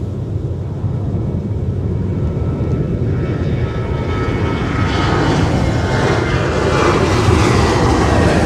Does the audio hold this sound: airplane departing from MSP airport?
yes